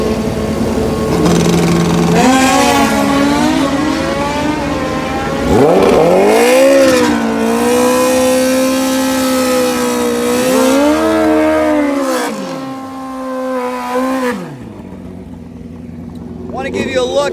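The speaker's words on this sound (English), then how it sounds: "Some real fast motorcycles set to go." High-horsepower drag motorcycles in the Pro ET class at a MAN Cup racing event rev and launch with loud rising engine tones in several surges, then fade away, while a voice talks over them.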